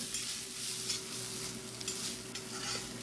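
Grated coconut, curry leaves and shallots roasting in a pan for sambar, a soft, faint crackling sizzle with gentle stirring scrapes and a low hum underneath.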